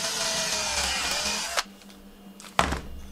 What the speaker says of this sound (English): I'm just using a hand drill with a 5/16 inch bit